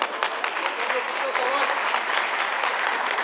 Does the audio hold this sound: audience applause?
yes